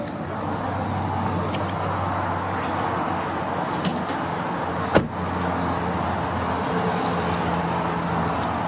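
A 2007 Acura RL with a 3.5-liter V6 VTEC engine runs at a steady idle, a low continuous hum with light background traffic, a soft click midway and a sharp thump like a door shutting near five seconds.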